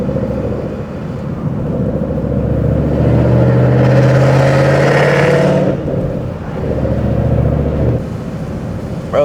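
A loud Ford Mustang GT revs hard and accelerates, its engine roar climbing in pitch through a long pull, easing briefly, then surging again, heard from inside the car.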